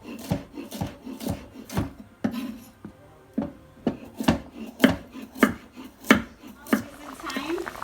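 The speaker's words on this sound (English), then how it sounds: "I'm just going to cut up all these veggie to add inside the pot" A knife chops carrot and Irish potato on a board for an oxtail curry stew, giving a steady run of crisp, close thuds with short pauses between strokes and no talk.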